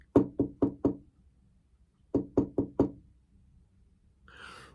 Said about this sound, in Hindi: तभी उसके दरवाजे में खटखटाहट हुई